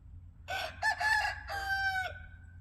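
A backyard rooster crows once nearby, a loud, clear cock-a-doodle-doo in several drawn-out syllables over a quiet low hum.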